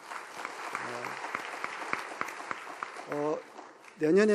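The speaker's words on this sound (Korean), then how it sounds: "우리 호산나 성가대 찬양대에 우리 다시 한번 격려의 박수 부탁합니다." A church congregation applauds its Hosanna choir during a Sunday service, a steady patter of clapping with a voice speaking over it in short bursts.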